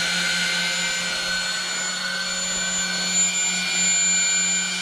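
A Freewing AL37 Leopard RC jet's electric ducted-fan motor runs at a steady high-pitched whine with a constant airy roar, close and loud throughout with no talk.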